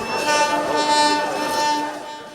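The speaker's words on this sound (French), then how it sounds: "Le train siffle à la 7e gare" A train whistle sounds at a station in Senegal, a sustained tonal blast swelling in a few pulses over rail noise, fairly loud and close.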